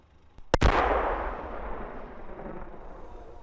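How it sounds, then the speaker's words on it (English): Ukrainian artillery fires from fields near Bakhmut: one sharp, heavy boom, close and loud, followed by a long rumbling echo that slowly fades. "Ukrainian artillery fires from nearby fields."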